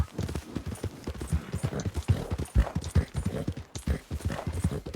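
A horse in Red Dead Redemption 2 clip-clops along in a steady, close rhythm of hoofbeats that continues throughout.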